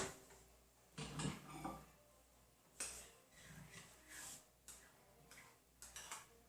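Spoon stirring shrimp risotto in a microwave dish, a series of soft scrapes and clinks against the dish in irregular bursts, close and quiet.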